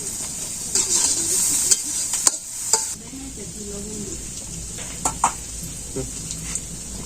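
Potatoes fry lightly in oil in a home village kitchen, a soft sizzle broken by scattered clinks and scrapes of a stirring spoon against the pan, fairly quiet and close.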